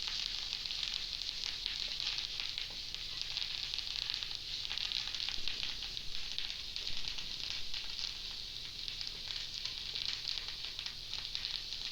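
Chili powder and chili pieces fry in a pan for Sri Lankan coconut sambol in a village kitchen, a steady close hiss of sizzling with faint stirring scrapes running through, no voices.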